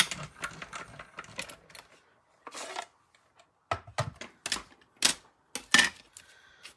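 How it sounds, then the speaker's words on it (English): A mini Stampin' Cut and Emboss machine cranks a tag through, giving a run of close clicks and mechanical clatter with short pauses, heard alone without speech. "So I'm going to use the mini Stampin' Cut and Emboss machine."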